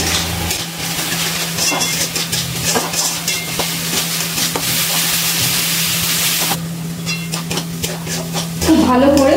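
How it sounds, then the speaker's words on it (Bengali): Spice masala for a homemade egg biryani fries and is stirred in a pan, giving a steady broad sizzle with scraping stir sounds and a low hum beneath, growing louder near the end. "এবারে সব কিছুকে একসাথে মিশিয়ে আবারও ভালো করে কষিয়ে নিচ্ছি"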